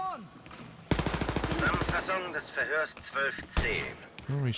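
Rapid automatic gunfire rattles in a burst from Wolfenstein: Youngblood, a loud close stream of shots, followed by scattered single shots while people talk over the game action.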